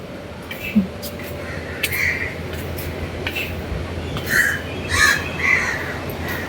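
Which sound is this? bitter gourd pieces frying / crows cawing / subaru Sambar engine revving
crows cawing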